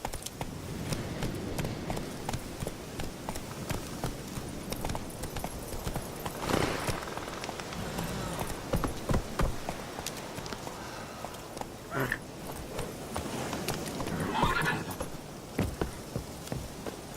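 Roach the horse galloping in The Witcher 3: Wild Hunt, rapid hoof clops running continuously under ambient game sound, with a few brief snorts or whinnies rising over the hoofbeats.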